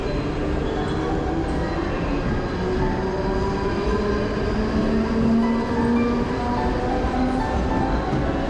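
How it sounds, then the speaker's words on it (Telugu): Trains rumble through the busy Andheri railway station in Mumbai with a loud, continuous roar of rolling wagons and faint wheel squeal, and no voices stand out. "ఇక్కడ మీరు చూస్తుంది అంధేరి రైల్వే స్టేషన్"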